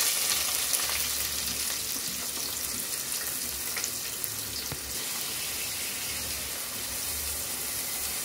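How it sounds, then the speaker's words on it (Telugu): Onions frying in hot oil in a pan for a pulusu curry, a steady dense sizzle that runs unbroken throughout with a faint watery hiss on top and no talking. "ఆయిల్ కాగింది. ఇప్పుడు మనం ఉల్లిపాయలు వేసుకుందాం."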